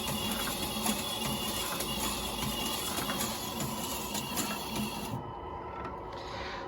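A remote control trommel's gear motor runs continuously with a dense mechanical whir and rattle, slightly uneven, then the higher part of the noise drops away near the end while a lower rumble continues.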